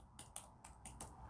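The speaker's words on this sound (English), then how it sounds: "I'm just typing a quick response to one of those comments here." Fingers tap on a computer keyboard in a short, quiet burst of about five separate keystrokes, close to the microphone in a still room.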